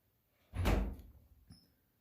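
A household door opens or closes once, a single muffled thud followed by a softer knock about a second later, heard alone in a quiet room.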